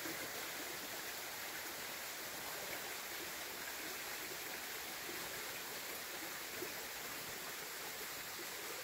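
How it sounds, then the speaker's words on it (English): A forest stream rushes steadily over rocks, a constant close wash of sound with no voices and no breaks. "sounds of running water around me"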